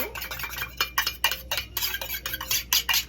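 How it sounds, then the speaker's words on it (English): Vanilla yogurt being scooped into a bowl with a utensil, a run of soft, irregular clinks and scrapes against the bowl, close and fairly quiet, with no talk. "this is 3/4 of a cup of vanilla yogurt. I'm just going to scoop that into my bowl"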